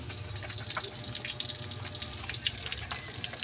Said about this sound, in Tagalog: At ito mga pinaggamitan ko, hugasan ko na yan.